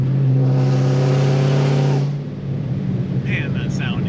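Loud Dodge Challenger Hellcat revving hard while driving, a strong sustained engine roar that drops off after a couple of seconds, followed by quieter running and voices.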